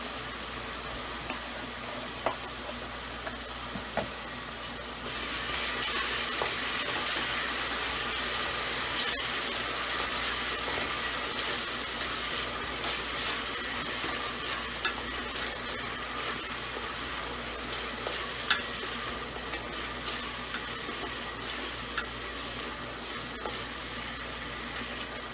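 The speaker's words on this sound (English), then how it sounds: "So now I'm going to let it cook onion for around 5 to 6 minutes on a medium heat." Onions seasoned with salt fry steadily in a pan over medium heat for a sev usal base, a continuous broadband sizzle that grows louder after a few seconds and runs unbroken with no talking.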